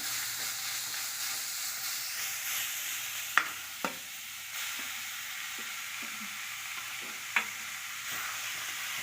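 Grated papaya for thoran being stirred in a hot pan, a soft steady sizzle with a few sharp scrapes and clicks of the spoon against the pan.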